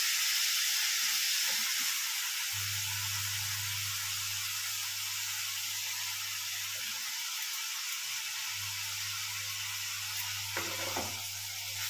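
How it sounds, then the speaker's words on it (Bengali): Chopped onion frying in hot oil left over from fried chicken gives a continuous, bright sizzle and hiss close up, with a few faint clinks from the pan. "পেঁয়াজটা দিয়ে ভালো করে ভাজা ভাজা করে নেব"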